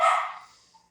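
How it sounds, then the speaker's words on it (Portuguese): A single loud, close dog bark outdoors bursts out and fades quickly over about a second, followed by a faint trailing yip, with no one talking. "Cachorro latindo"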